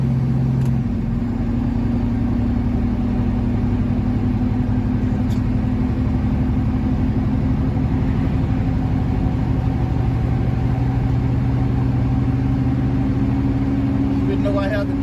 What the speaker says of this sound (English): Jake brake is doing an awesome job choking that engine and keeping me from speeding up